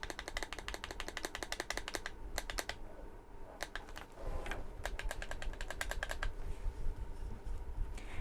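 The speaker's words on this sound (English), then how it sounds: "It feels really nice and has a nice click sound to it." Trigger button on a Gravis Destroyer PC joystick clicked rapidly in quick bursts, a string of sharp, close plastic clicks with brief pauses between runs.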